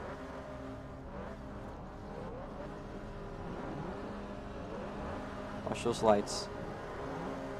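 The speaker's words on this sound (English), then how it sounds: "Four cylinders go up, revving as high as they can go." Mazda Miata four-cylinder race cars rev hard at a touge race start line, a steady engine drone with rising revs near the end, while a voice talks over it throughout.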